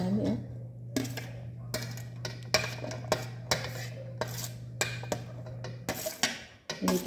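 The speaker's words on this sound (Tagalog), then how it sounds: "Lakas kasi ng tunog ng mga kubertos." Repeated bright metallic clinks of cutlery against dishes, irregular and close, over a steady low hum, with faint voices now and then.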